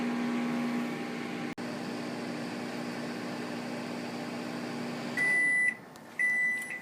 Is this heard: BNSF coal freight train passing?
no